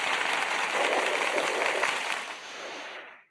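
Dense applause from a group of people, steady broadband clapping for about two and a half seconds before tapering off and stopping abruptly.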